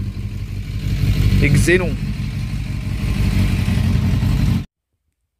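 A cold motorcycle engine idles with the choke partly on, a steady loud close rumble throughout, with a short spoken phrase over it before it cuts off abruptly.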